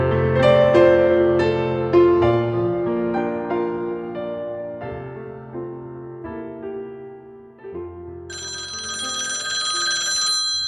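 A telephone bell rings as a sound effect in a radio drama, loud and close, with repeated rings that run steadily and then shift to a brighter, higher ring near the end.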